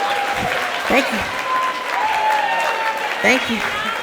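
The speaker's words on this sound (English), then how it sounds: "So let's give a round of applause to Lil Prince Charming." Audience applause after a young performer's set at an awards event, steady broadband clapping throughout with brief voices and shouts breaking through over it.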